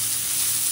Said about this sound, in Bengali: একটু জিরে ফোড়ন দিই।